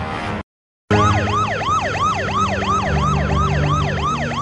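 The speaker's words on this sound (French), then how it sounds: "Hommes et ambulances se précipitent." Ambulance sirens rush toward an emergency scene, a loud, close wail that cuts out briefly, then returns as a continuous rapid rising-and-falling yelp with engine rumble underneath.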